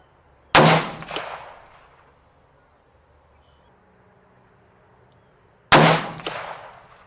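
A rifle fires two sharp, loud shots at a shooting range, spaced about five seconds apart, each cracking and then ringing out and decaying, with insects chirping steadily in the background.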